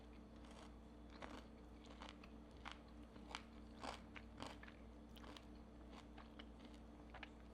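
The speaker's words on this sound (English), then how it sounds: "Can you hear that crunch?" Repeated crisp crunches of chewing a fried pickle-brined chicken nugget, close and quiet, irregular bites and chomps over a low steady hum.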